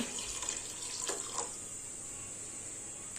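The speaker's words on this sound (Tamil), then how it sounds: "இப்போ நம்ம தண்ணி ஊற்றிக்கலாம் ஒரு கப்பு அரிசிக்கு ஒன்றரை கப்பு தண்ணி" Water is poured into a pot of raw rice, one and a half cups per cup of rice, for a mutton biryani. It makes a soft, steady hiss and trickle, with a couple of brief splashes early on and no talking.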